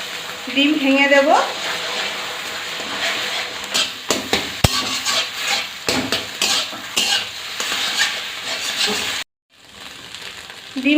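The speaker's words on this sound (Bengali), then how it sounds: "ডিম ভাজা হয়ে গিয়েছে" An egg frying in a kadai sizzles steadily while a spatula stirs and scrapes, with repeated metallic clinks and taps against the pan, ending in a short pause before the hiss resumes.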